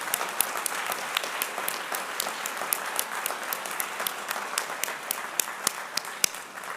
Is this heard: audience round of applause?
yes